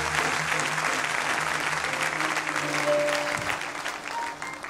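A church congregation claps and cheers loudly and continuously, a dense wash of applause with a few scattered voices and shouts mixed in.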